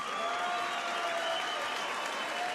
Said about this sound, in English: Ladies and gentlemen, a round of applause for 2 warriors.